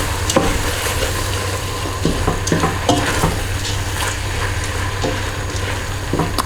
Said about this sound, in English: Okay, just mix that rice in.